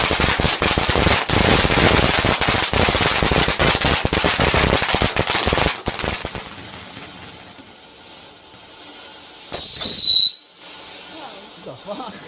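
Bonfire Night fireworks crackle in dense, loud bursts for about six seconds, then give way to quieter night air with a sharp rising whistle near the end.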